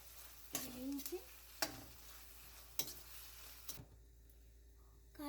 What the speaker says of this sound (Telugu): ఇప్పుడు అల్లం వెల్లుల్లిపాయ పేస్ట్ వేసుకొని పచ్చివాసన పోయే వరకు